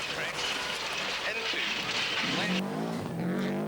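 Colin McRae's rally car steering hard into a corner, its engine roaring loud and close throughout with a hint of tire squeal, the pitch shifting as it turns, and a voice faintly under the noise.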